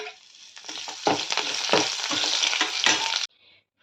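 Dried red chillies fry loudly in hot oil for tomato rasam, a dense steady sizzle with sharp spatters and stirring clicks for about three seconds before cutting off abruptly.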